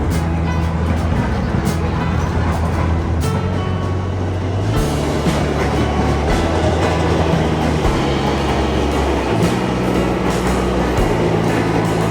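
Rumbling interior of a moving KRL commuter train in Jakarta, a steady loud drone with shifting low tones and a few clanks, voices murmuring faintly underneath.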